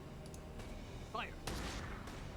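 Gunfire in the video game Valkyria Chronicles 4: a broadband crack stands out near the middle, with a smaller shot before it, over a steady game background and faint chirpy effects.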